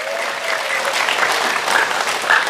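An audience applauding at a church sermon gathering, with dense, steady clapping from many hands throughout, close and loud.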